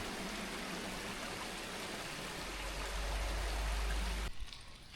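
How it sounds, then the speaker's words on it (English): A small waterfall beside the Greenbrier River Trail near Siebert in the West Virginia mountains gives a steady, full rushing roar that swells slightly before cutting off abruptly near the end. "this pretty waterfall."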